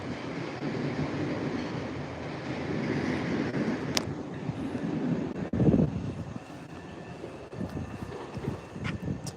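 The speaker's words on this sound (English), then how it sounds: "I think there is an inbound train" An inbound subway train at Forest Hills station rumbles past with a steady, broad roar and a louder thump midway, with faint squeals and clanks over the noise and no talk.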